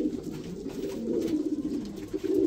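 Soft, low pigeon cooing repeats in gentle rolling phrases, close by and fairly quiet, with no voices.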